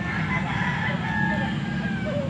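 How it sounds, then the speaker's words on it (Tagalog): Roosters and chickens at a live poultry market in Pampanga, Philippines, clucking and crowing faintly amid a steady din of background noise and distant voices. "Patingin nga na manok mo"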